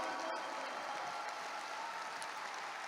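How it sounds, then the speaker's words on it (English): Audience applause fills the room, a dense, steady wash of clapping that continues at an even level from start to finish. "Can we give our Vietnamese brothers a round of applause today?"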